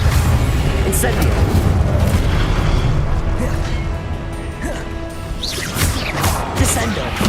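Incendio fire spells cast during combat in the video game Hogwarts Legacy land as a run of loud crashing bursts and booms, strongest early on, then sharper bangs return after a brief dip.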